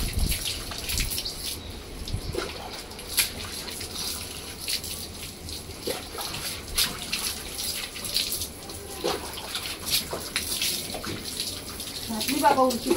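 Water pours and splashes continuously while a dog is being bathed at home, with people talking over the running water throughout.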